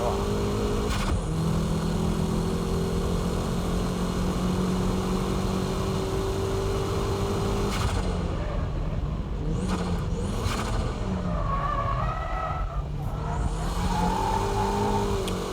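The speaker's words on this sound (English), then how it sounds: "That corner entry began as a braking drift, but towards the exit I switched to dynamic drifting." A car drifting through a corner in a driving lesson, its engine revving hard and changing pitch as it shifts through gears, loud and close with rising and falling whines.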